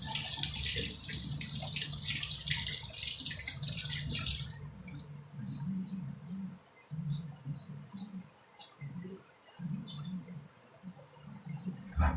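Tap water gushes steadily into a kitchen sink for several seconds, then stops, leaving quieter splashes and handling noises as hands are rinsed and shaken, with soft murmured speech.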